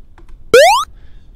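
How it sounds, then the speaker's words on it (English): A single synthetic chirp generated in Unity: a clean electronic tone sweeping upward for about a third of a second, bright with harmonics, loud against quiet room noise. "You can generate sounds. Just say you can generate a chirp."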